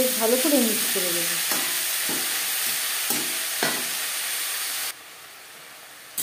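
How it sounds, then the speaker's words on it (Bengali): Khesari (grass pea) greens with beans and eggplant stirred together in a pan, a steady frying sizzle and hiss with several scraping strokes of the spatula, close and moderately loud, softening near the end. "শাকের সাথে শিম বেগুন বেশ ভালো করে মিক্স করে দেব।"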